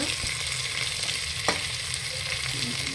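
Tomato frying with ginger garlic paste in a pan for jackfruit biryani, a steady close sizzle with a light stirring scrape partway through, loud and continuous with no voices.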